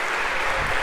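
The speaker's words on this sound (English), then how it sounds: "One more round of applause if we could for our volunteers." A lecture-hall audience claps for volunteers at a computer science class, a brief, continuous burst of dense applause at a steady, fairly loud level.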